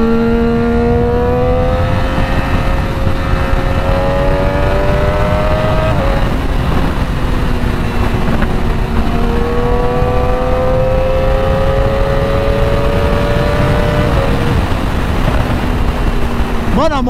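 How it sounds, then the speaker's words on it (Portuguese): A Triumph Daytona 675 motorcycle revs loudly and continuously, its engine pitch rising and falling through repeated gear changes and accelerations, close up with wind noise and occasional voices. "a moto pipoca pra porra"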